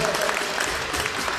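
An indoor handball crowd applauds the coach and team after a match, a continuous dense patter of clapping heard throughout, with a voice speaking over it.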